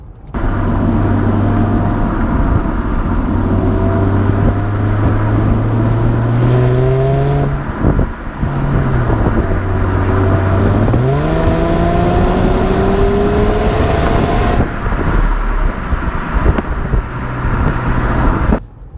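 A Mercedes E350 4MATIC V6 engine revs up strongly, its pitch climbing steadily, drops briefly at a gear change, then pulls again, loud and continuous throughout.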